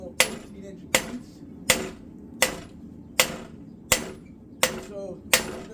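A sledgehammer pounding steel flat while forging a katana blade: eight heavy metallic strikes at a steady pace of about one every 0.7 seconds, loud and close, each ringing briefly before the next.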